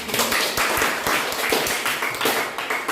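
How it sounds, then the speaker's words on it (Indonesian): Students in an Indonesian classroom clap their hands together, a dense, steady patter of many claps filling the room for a few seconds without pause. "Mari kita berikan tepuk tangan."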